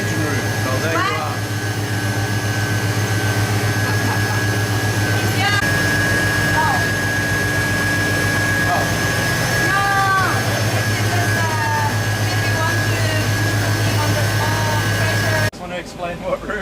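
Engine room machinery aboard the ship Logos Hope drones with a loud, steady low hum and constant mechanical roar, while people talk over it throughout, then the noise cuts away abruptly near the end.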